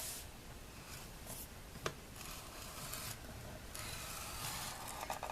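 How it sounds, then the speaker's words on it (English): A scoring tool drags along paper in soft, quiet scraping strokes, a few rubbing passes with one small sharp tap, close by and without talk. "so I'm going to use the scoring tool, and I am going to, on the 11-inch side, we're going to score at a 1/2 inch."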